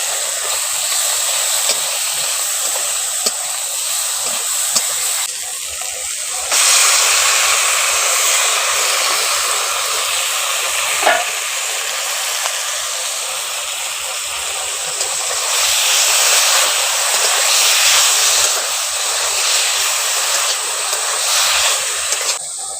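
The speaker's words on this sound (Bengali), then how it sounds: "আদাটাকে ওইখানে আস্তে আস্তে করে আমি এখন কষে নিচ্ছি।" Ginger paste frying slowly in a pan while taro stems with prawns cook, a loud, steady broadband hiss that swells and eases across the stretch, with no voices.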